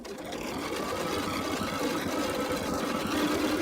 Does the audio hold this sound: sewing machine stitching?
yes